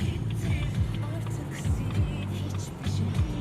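A car pulls away slowly on a driving test course in Ovacık, Keçiören, Ankara, its low engine drone steady and near, with a few soft rises in pitch as it creeps forward.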